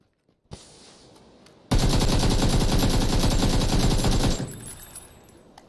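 Gunfire in PUBG: a brief single crack, then a long, loud, rapid automatic burst lasting a few seconds before trailing off, with no talking.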